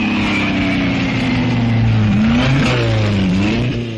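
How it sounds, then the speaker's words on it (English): Sports cars racing in the Le Mans 24-hour Grand Prix d'Endurance, engines roaring loudly and continuously, with pitch rising and falling as the cars accelerate and shift through gears. "a sports car race at Le Mans"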